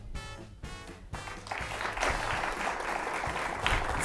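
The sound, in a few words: audience applause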